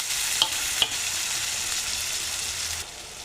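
Tomatoes drop into a pan of sizzling garlic-ginger masala and are stirred, giving a steady loud frying hiss with two sharp clinks early on before the sizzle eases near the end.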